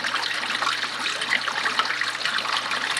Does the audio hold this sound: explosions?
no